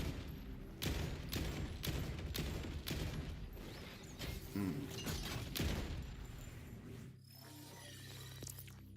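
A shotgun with an SMG firing mode in Borderlands 4 lets off rapid, dense bursts of loud gunfire, then falls to a quieter in-game hum near the end.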